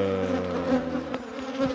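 Honeybees buzz loudly and continuously in a dense, close swarm during a hive rescue, with transferred brood frames and many drones nearby; a steady droning hum with slight shifts, no talking.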